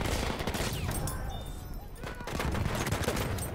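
Annihilator machine gun fire in Battlefield 1 multiplayer on PS4 rattles in dense rapid bursts across the whole span, loud and close, with other battle noise mixed in.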